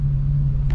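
A race car engine idles steadily at close range, a low continuous rumble with a strong, even hum and a slight rise in level near the end, with no one speaking.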